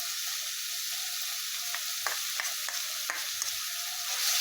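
Snails frying in a pan with mustard and poppy seed paste, giving a steady close sizzle broken by several sharp scraping stirs of a spoon, no voices.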